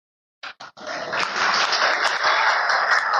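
Audience applause at a Hindi talk-show gathering, starting with a few separate claps and quickly swelling into loud, sustained clapping from the crowd.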